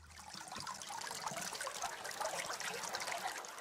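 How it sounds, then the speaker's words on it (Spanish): A small river flows steadily, a continuous close rush of water trickling and babbling with no pauses. "Nos sentamos junto al sonido del agua"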